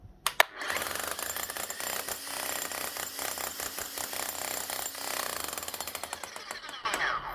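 A Bosch GSH 11 E demolition hammer with a manufacturing fault pounds away under its own weight, a rapid, steady mechanical rattle of hard impacts that runs on after a couple of sharp knocks at the start, with no one talking.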